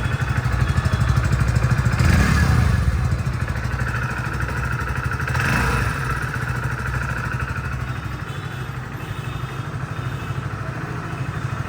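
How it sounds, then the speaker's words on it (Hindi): A Hero Splendor Plus top model motorcycle engine idling up close, a loud, steady mechanical putter with a brief rev swell early and another smaller one midway, no voices. "साउंड सुन लेते हैं इस बाइक का कैसा है।"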